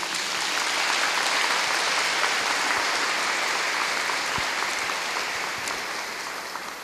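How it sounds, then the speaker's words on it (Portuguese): A church congregation applauds with dense, sustained clapping that fills the room evenly for several seconds, then slowly tapers toward the end. "Vamos aplaudir o Senhor, né?"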